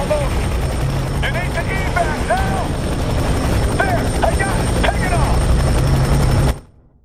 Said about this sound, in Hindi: यहाँ पर दोनों भाई स्लम से होते हुए एक हेलीकॉप्टर को हाईजैक करते हैं।